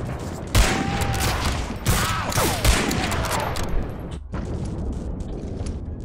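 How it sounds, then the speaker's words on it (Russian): Gunfire, including sniper rifle shots, in the World War II shooter Medal of Honor Allied Assault (Breakthrough): several loud, sharp cracks ring out over a dense, continuous battle din of rattling fire and rumble, with a brief lull near the end. "Там потому что откуда-то вот оттуда стреляет снайпер."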